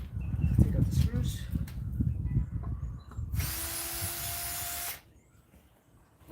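Cordless power drill backing screws out of a Granberg mini mill chainsaw attachment, one high whirring burst of about two seconds after rustling handling noise, then quiet.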